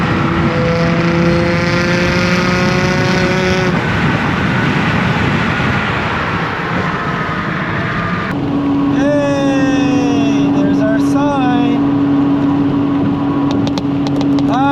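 An Audi Allroad engine drones steadily and loudly as it echoes off a roadside wall, with wind buffeting and shifting tonal whine over the steady roar.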